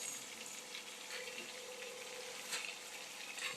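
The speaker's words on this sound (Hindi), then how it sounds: "पानी बिल्कुल बॉयल हो गया" A pot of water at a rolling boil for chow mein noodles, a steady bubbling hiss with small pops and splashes, close and constant.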